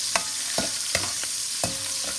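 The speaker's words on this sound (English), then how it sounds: "Let this kind of saute just a little bit," An oil base for Haitian stew fish sautés steadily in a pan, giving a continuous loud sizzle broken by several sharp stirring scrapes at irregular intervals, with no talking.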